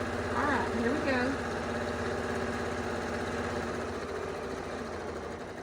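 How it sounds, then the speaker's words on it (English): A sewing machine motor runs steadily at speed while top stitching fabric for a ribbon candy Christmas ornament, a continuous mechanical hum with a voice talking briefly over the start. "I like to sew when I can put the pedal to the metal and go."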